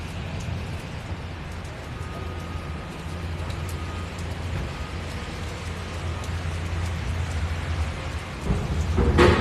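Steady rain falling outdoors at Sylvia Park shopping centre in Auckland, a dense constant hiss with low rumbling underneath that swells slightly toward the end, no voices.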